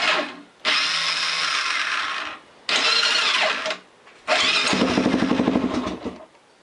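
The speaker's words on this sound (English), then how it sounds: "sometimes it starts and sometimes you just hear it spin, like the starter just spin and nothing happens" Electric starter on a Honda 400EX quad with a faulty starter clutch, cranking in three loud whirring bursts separated by short pauses, the last burst turning into a brief rough chug, close and without talk.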